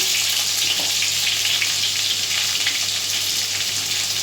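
Ridge gourd stir-fried in a pan gives a loud, dense and unbroken sizzle that holds steady throughout, with no talking.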